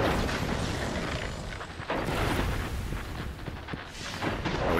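Rocket explosions and heavy weapon fire in a first-person shooter video game, dense continuous booming blasts with bursts around the two-second mark, loud and close, without talk.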